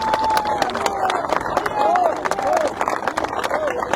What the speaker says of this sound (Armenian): եկեք մի հատ ծափերով իրար ողջունենք ձեր